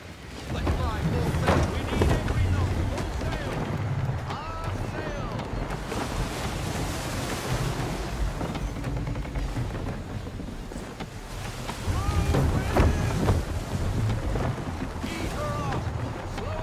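A sailing ship moves through rough water in Assassin's Creed 3 Remastered, a continuous rush of wind and surging waves swelling and easing throughout, with muffled voices faintly beneath the steady roar.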